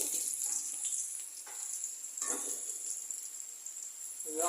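Spices tempering in hot oil for a Malabar spinach and potato fry, a soft, steady sizzle with a few brief crackling bursts under a constant high-pitched background whine.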